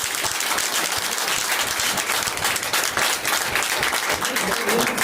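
A seminar audience at a training session bursts into dense, continuous applause, loud and close, with many hands clapping at once for several seconds.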